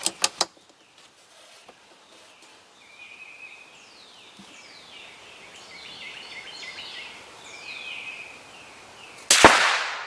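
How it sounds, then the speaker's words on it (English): Sharp cracks from an Anschutz 54 .22 rifle built in 1966, fired outdoors at a bottle: a quick pair of close shots at the start and one loud crack near the end, with birds chirping in between. "So now we'll just see if we can shoot the piece that's down on the bottom."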